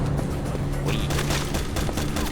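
Enemy gunfire in Resident Evil 6, a rapid burst of shots crackling close and loud over a low background hum, with no talk.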